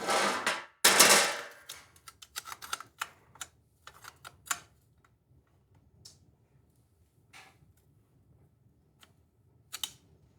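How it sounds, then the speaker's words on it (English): A sheet metal punch cuts through metal while a sword hilt is made, giving a loud burst of crunching clanks followed by a run of sharp clicks and taps, then scattered isolated knocks, close and without talk. "it's just a sheet metal punch."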